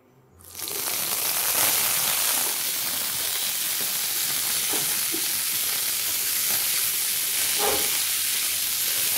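A steady, loud sizzle of agretti sautéing in a hot pan, beginning abruptly as the greens hit the oil and hissing continuously with faint stirring knocks, no talk.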